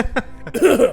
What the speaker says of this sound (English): Coughing all over